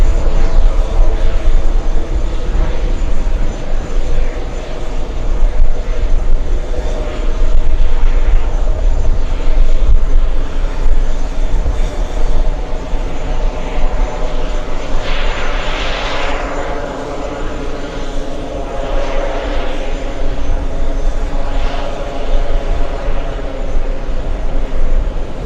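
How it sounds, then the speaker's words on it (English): Lufthansa airliner landing at an airport, its jet engines making a loud sustained roar with a whining tone that swells and shifts as it passes, continuous and close, with faint background chatter. "Lufthansa is landing up."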